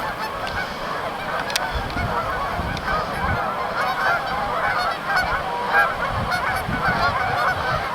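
Snow geese honk repeatedly at a wilderness park, an overlapping chorus of nasal calls carrying steadily over outdoor background noise throughout.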